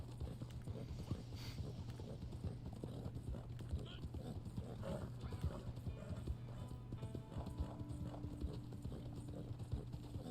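Horse hooves clip-clop steadily at a trotting pace in the video game Red Dead Online, over a constant low engine-like drone, with a person talking intermittently over it.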